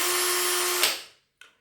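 A Parkside 20V PSBSA 20-Li C3 cordless hammer drill whirs steadily at full speed for under a second, then winds down, followed by a brief faint burst as it starts again.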